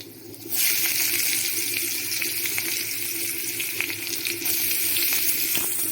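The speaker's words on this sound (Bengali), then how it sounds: "পেঁয়াজ কুচিগুলো হালকা ভাজা ভাজা করে দেব," Chopped onions drop into hot mustard oil in a wok with dried red chilli and panch phoron. After a brief quiet moment a loud, hissing sizzle bursts up and then crackles steadily nearby.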